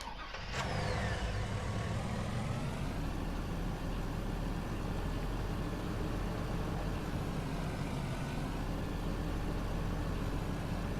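A car in Farming Simulator 19 starts with a sharp burst and then drives steadily, its engine droning loud and constant at close range with no talk over it.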